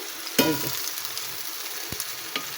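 Banana fritters fry in a pan with a steady, even hiss, broken by a sharp clatter near the start and a couple of lighter taps later.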